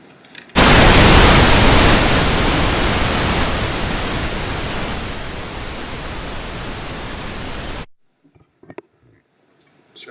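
Loud steady white noise, played to mask a courtroom, surges on abruptly, holds as a dense hiss that slowly fades a little, then cuts off sharply, leaving faint scattered knocks in near silence.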